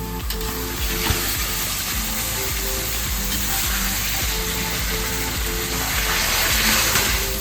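Potatoes go into a sizzling spice paste with tomatoes in a frying pan, producing a loud, dense, continuous sizzle close up, with faint stirring knocks and no talking.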